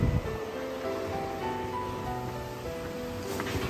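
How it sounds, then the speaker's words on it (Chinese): Atlantic Ocean surf on the coast of Gabon, heard from a balcony as a steady, even wash of waves at a moderate distance, with no talking. "大家看我身后呢是大西洋啊，大海。"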